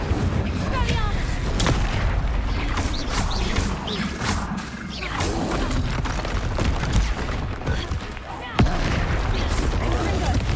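Spell blasts, booms and crackling impacts from the video game Hogwarts Legacy fire in a dense, continuous barrage, with one sharp crack standing out near the end. A voice talks over the combat.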